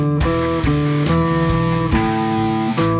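Electric guitar playing a simple Rockschool Grade 1 line across the fifth, fourth and third strings, a short sequence of sustained single notes and open strings with a slightly driven tone, close and alone.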